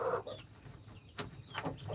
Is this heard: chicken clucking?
yes